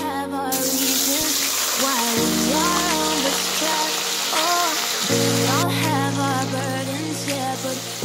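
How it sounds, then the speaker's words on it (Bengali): Diced potatoes frying in a pan for a Bengali kofta curry, a steady hiss and sizzle running throughout with a few clinks and shifts, and a low hum that switches on and off. "আলুটাকে আমি ভেজে নেবো।"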